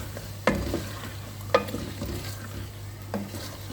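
Two medium potatoes fry in spiced oil in a pan with an aloo tinda curry, a steady sizzle running underneath while three sharp stirring scrapes ring out at spaced intervals, close and moderately loud.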